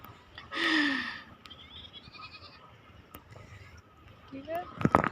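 Goats bleat on a farm where eggplant is being planted, with a loud nearby bleat early on and another shorter call near the end, amid faint background noise and brief human sounds.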